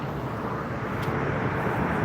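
Azores Airlines Airbus jet at Frankfurt Airport, heard as a steady, loud broadband engine roar that holds evenly throughout with no break.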